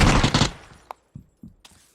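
A rapid burst of loud gunfire in the video game PUBG opens, then fades into a few scattered, quieter shots and clicks spaced apart.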